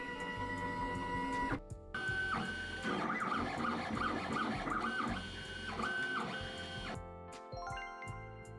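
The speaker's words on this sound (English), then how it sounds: "I really like the sound of the 3D printer over here." A 3D printer runs steadily with the whirring, stepping hum of its motors. It is broken by brief pauses and shifting pitch patterns as the print head moves, loud and close throughout.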